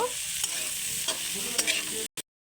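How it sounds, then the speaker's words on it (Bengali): Frying in a pan after adding salt and turmeric powder: a steady close sizzle with the scrape of a spatula stirring at intervals, ending abruptly. "লবণ আর হলুদের গুঁড়ো আর একটু ভালো করে ভেজে নেব"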